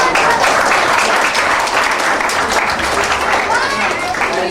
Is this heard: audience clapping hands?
yes